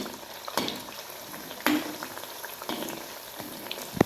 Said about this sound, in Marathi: दोन्हीकडून आलटून पलटून या प्रकारे आपण सर्व भजी तळून घेऊया